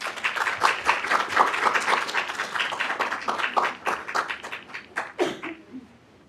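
Hearty audience applause at a youth awards event as honorees come up to the stage, dense clapping that thins out into scattered claps before stopping.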